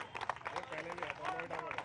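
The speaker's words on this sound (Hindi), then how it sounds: "आपके लिए ये ताली बज रही है" A studio audience at a televised Indian election debate claps to welcome a guest, a quick rattling patter of many hands, fairly faint and slightly distant, with voices mixed in.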